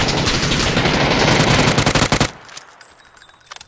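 Rapid automatic gunfire from a video game firefight, a dense loud burst of shots that breaks into distinct separate shots before a couple of faint trailing pops.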